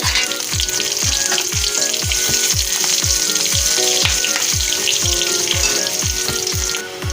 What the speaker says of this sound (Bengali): এবার আমি ফোড়নগুলো দিয়ে দেবো